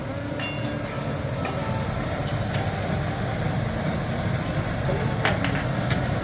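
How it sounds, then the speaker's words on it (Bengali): Spicy mushrooms are stir-fried in a pan with a steady close sizzle and hiss, broken by occasional light scrapes and taps of the stirring spoon. "এবার আমি এটাকে কষবো আর এর মধ্যে একটা একটা করে জিনিস আমি দেবো"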